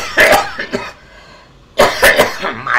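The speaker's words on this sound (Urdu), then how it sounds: "بھائی ہمیں تھوڑی سی کھانسی وانسی بھی آ جاتی ہے، برداشت کر لیجیے گا." An older man coughs during a live poetry broadcast: a cluster of harsh, close coughs, a short pause, then a second loud burst of coughing.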